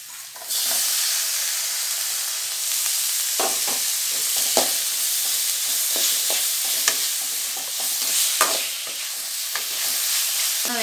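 Onion and tomato sauté in a pan, a continuous close sizzle broken by frequent scraping and clacking from stirring with a utensil, with no talking.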